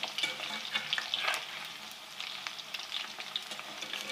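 Besan gatte dumplings sizzle gently in oil over a slow flame while a spoon stirs them, a soft crackling with intermittent scraping, close and quiet with no talking.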